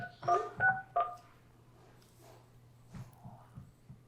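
Three quick keypad tones dial into a freeconferencecall.com conference line during a community preservation committee meeting, each a short bright beep over a steady low hum, followed by faint room noises.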